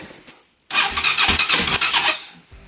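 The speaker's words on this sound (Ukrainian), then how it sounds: "Я пробував заводити, почало грохотати." A Loncin Voge LX300GY motorcycle engine cranks and catches after a short quiet pause, running loud and close with a rough, uneven rattling roar for about two seconds before cutting off abruptly.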